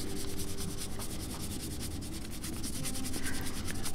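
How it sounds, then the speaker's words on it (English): Dry brushing paint onto a miniature's wooden plank panels with a paintbrush, a close, steady rhythmic scratchy rubbing of rapid back-and-forth strokes, heard alone. "now I'm going to use the wood cold base colour to do some dry brushing to make all the panels pop"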